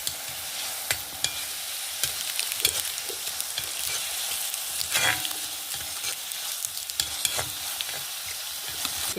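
Two tomatoes with spices roast in a pan for a sambrani root stir-fry, giving a steady, soft sizzle broken by frequent stirring clicks and scrapes, with no talking.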